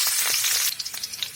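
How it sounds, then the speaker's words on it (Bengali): Onion and green chillies fry in white oil in a wok, a bright hissing sizzle with stirring clatter, loud at first then settling into sputtering pops over the short stretch. "পেঁয়াজ আর কাঁচা লঙ্কা ভালো করে ভেজে নেব"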